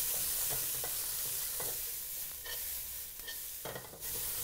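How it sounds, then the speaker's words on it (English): Mung bean sprouts fried in a wok for Singapore-style rice vermicelli, a steady close sizzle broken by repeated scraping and stirring strokes, with no talking. "Just fry them around until they are a little bit brown."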